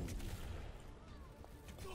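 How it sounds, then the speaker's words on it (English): Dense, continuous explosions and gunfire from an Overwatch match rumble loudly throughout, a chaotic barrage of booms layered together. "There's so many explosions."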